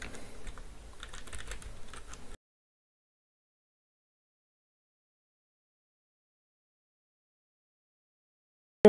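Close, quick typing of code on a computer keyboard, a busy patter of key clicks for about two seconds before stopping abruptly into silence.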